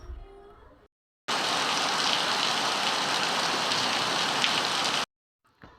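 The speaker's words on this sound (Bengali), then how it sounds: "বৃষ্টির আওয়াজটা কি যে ভালো লাগছে" Heavy rain pouring down in a village, a dense loud steady hiss of drops on surfaces that starts abruptly and cuts off, with quieter ambience briefly before and after.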